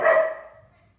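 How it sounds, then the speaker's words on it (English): A puppy barks once, close and loud, in a room, the sharp yelp fading out over about half a second. "Sorry again about the dog barking."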